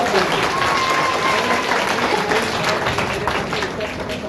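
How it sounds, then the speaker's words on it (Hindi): An audience at a community organisation's gathering gives sustained, loud applause in thanks to a doctor, a dense wash of many hands clapping that fades slightly toward the end. "एक जोरदार ताली देकर डॉक्टर साहब का शुक्रिया करते हैं।"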